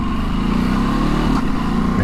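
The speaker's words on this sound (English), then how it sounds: "When I'm doing 70, and you can probably hear it on the helmet, there's a lot of wind noise." Heavy wind buffeting a helmet while riding a 2022 Ducati DesertX motorcycle at 70 mph, a loud continuous roar with the engine droning underneath throughout.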